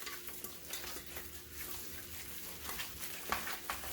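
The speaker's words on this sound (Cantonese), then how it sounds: "攪到佢起膠為止" Shrimp paste mixed with starch being stirred by hand in one direction until sticky, giving a steady, close, wet squelching and smacking texture that runs continuously without pause.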